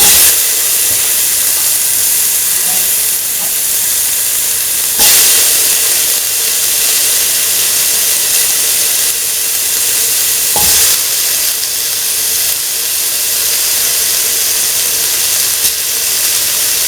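Tomato pieces sizzling in a hot pan while cooking an okra, chickpea and coconut milk rice dish, a loud steady frying hiss with a few stirring clatters, close and continuous.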